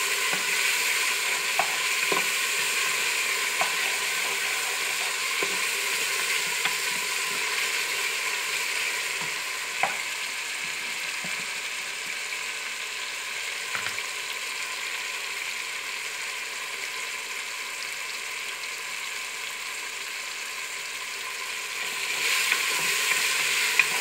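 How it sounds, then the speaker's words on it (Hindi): Masala and tomatoes sizzling in a pan, a steady hiss of frying with occasional light scrapes and clicks of stirring, close and continuous throughout, with no talking. "थोड़ी देर के लिए हम इसे पकाएंगे ताकि टमाटर के साथ अच्छे तरीके से मिक्स हो जाए"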